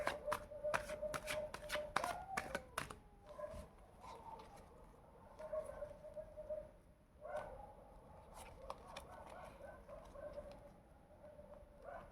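Tarot cards are shuffled in quick bursts of papery riffles and taps, busiest at the start and then sparser. The sound is quiet and close, with a faint steady tonal hum underneath.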